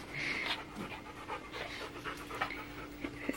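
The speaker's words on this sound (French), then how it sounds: "les chiens s'amusent avec Chanel." Dogs play close by with steady, rapid panting throughout, broken by small yips and scuffling, with no one talking.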